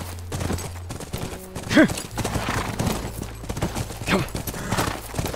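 Horse hooves clip-clopping steadily in The Last of Us Remastered near a ranch corral, a close rhythmic trot with occasional whinnies and a voice speaking briefly over it.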